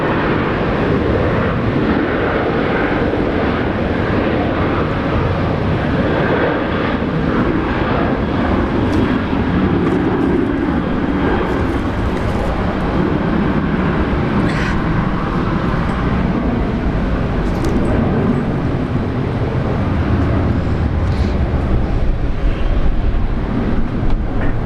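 A jet airliner departing Brisbane International Airport for Sydney, its engines producing a continuous, loud, rumbling roar that holds steady across the whole stretch with no voices over it.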